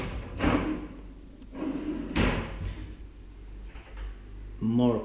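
Kitchen drawers and cabinets in a renovated city apartment open and shut with several dull thuds and slides, a few close bumps spread through the stretch, with brief voices in the room.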